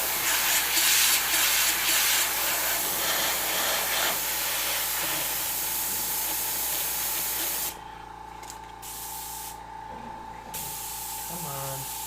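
An airbrush blasts compressed air while freehand spraying paint for a Halloween pumpkin design, a loud continuous hiss that cuts off in short gaps and resumes near the end.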